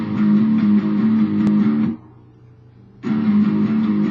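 Guitar playing an intro riff at a slow teaching tempo: a steady, bright strummed phrase, a roughly one-second pause, then the phrase starting again, alone and close.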